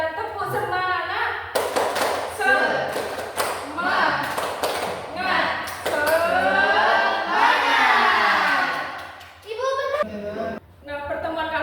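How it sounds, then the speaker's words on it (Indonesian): Schoolchildren standing in an Indonesian classroom perform a rhythmic spirit-clap chant, bursts of hand claps alternating with chanted voices, loud and close, with a teacher's talk around them. "Ayo kita tepuk semangat."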